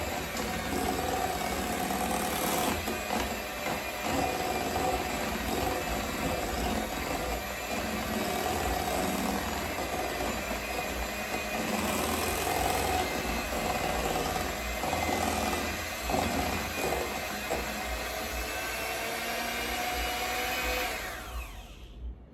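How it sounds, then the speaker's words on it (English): An electric hand mixer beating chicken enchilada filling, a steady loud motor whir with scraping and rattling against the bowl, running for about twenty seconds before winding down. "and use the hand mixer."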